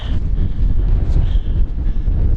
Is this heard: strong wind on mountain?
yes